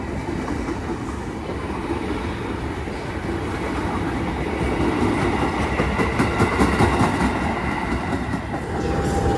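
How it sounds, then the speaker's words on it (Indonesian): A KA Batavia economy train hauled by a CC206 locomotive in Jumbo livery passes close by, with a steady loud rumble and rail clatter that swells toward the middle and stays dense throughout. "Pakai lokomotif stiker Jumbo juga nih."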